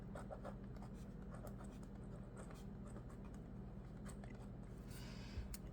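A green pen scratching across the page of a budget planner, faint and close, with soft irregular strokes over low room noise.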